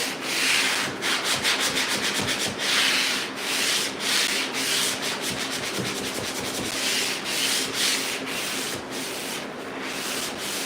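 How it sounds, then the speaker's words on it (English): Close, fairly loud sanding by hand: repeated rhythmic rubbing strokes that keep a steady back-and-forth pace for about ten seconds, with no one talking. "We'll sand it"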